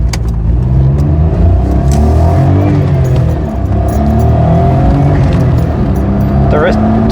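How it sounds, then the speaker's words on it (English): Car with a stock recirculating blow-off valve accelerating through gears, loud close engine drone with rising and dropping pitch between shifts and brief venting puffs, with a person talking over it. "There does seem to be some sort of stock kind of blow off valve, a recirculating valve, and you can hear it blowing a little bit in between gears"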